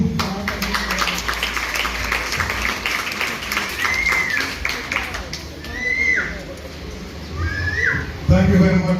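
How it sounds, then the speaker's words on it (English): Applause at a basic school graduation ceremony, scattered clapping mixed with children's chatter and murmuring crowd noise, with a sharper burst of claps near the end. "Let's give him a big applause."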